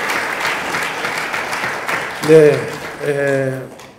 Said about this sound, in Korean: 우리 언론인들한테 한번 박수 한번 먼저 크게 쳐주시기 부탁드립니다.